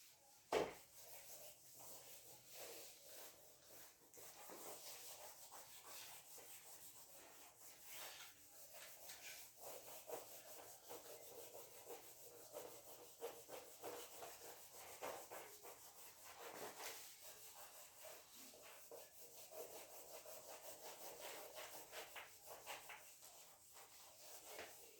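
Soft, continuous rubbing of writing being erased from a board during a physics lesson, faint and steady for the whole stretch with occasional scuffs and light knocks.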